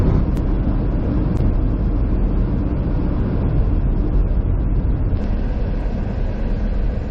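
Car cruising on the road with the AC running: a loud, steady interior rumble of road and engine noise throughout, with no talking.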